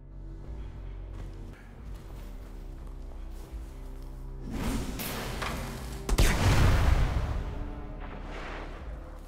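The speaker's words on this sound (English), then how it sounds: "An explosive grenade that catches enemies on fire, causing additional damage over time." An incendiary grenade explodes in the Destiny game, a loud whooshing blast that swells into a sustained roar of burning flames before fading, set over steady low background game music.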